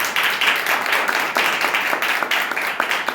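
Congregation clapping together in a church service, a dense, steady wash of many hands applauding at close range throughout, with no clear voices over it.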